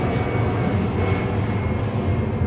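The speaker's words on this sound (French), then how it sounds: "Bon, c'est les avions, hein. C'est normal, je suis en pleine trajectoire." Airplane passing along a flight path above an outdoor work spot, a steady broad roar that holds at an even, fairly loud level throughout, with faint talk mixed in.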